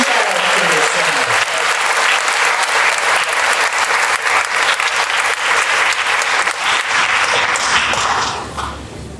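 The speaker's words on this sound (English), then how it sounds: "Let's have another round of applause for the St. Ambrose Youth Choirs and the Rise and Shine Light Christian Child Choir Center." An audience at an evening event honoring police officers gives a loud, sustained round of applause for youth choirs, dense clapping with a few sharp nearby claps, tapering off at the end.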